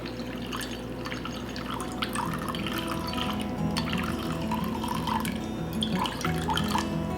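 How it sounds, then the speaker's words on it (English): Distilled water is poured into a container for cold-process tallow soap making, giving a continuous splashing, trickling stream that grows slightly fuller as the vessel fills. "So I'm going to start in by adding in my liquid. I'm using distilled water"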